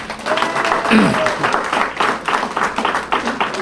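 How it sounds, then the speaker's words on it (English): An audience gathered at Riderwood claps in a sustained round of applause, with a voice briefly rising over the clapping. "Can we give him another round of applause?"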